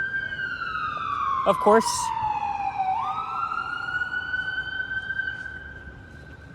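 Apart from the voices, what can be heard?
emergency vehicle siren on a city street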